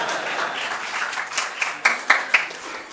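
Conference audience in an atrium applauding long-serving contributors, a fading wash of clapping with a few sharper, closer individual claps toward the end.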